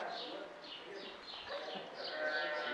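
Sheep bleating inside a barn, a chorus of overlapping calls repeating every fraction of a second at moderate distance, fairly faint, with no talk over it.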